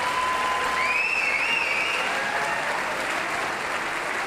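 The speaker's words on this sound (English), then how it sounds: "one more round of applause for this first band." Loud, continuous applause from a concert audience for the first band at a gathering of bands, dense and sustained throughout, with a few whistles rising above the clapping early on.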